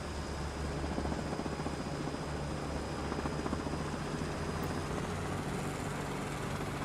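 A video game helicopter engine runs with the governor off and the throttle down, making a continuous whirring drone with rhythmic rotor chop and a thin high whine that fades near the end.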